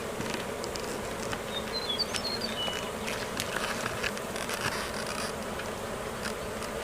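Honeybees buzz around an open hive during a hive check, making a steady, close, continuous drone. A few faint bird chirps come through briefly in the background.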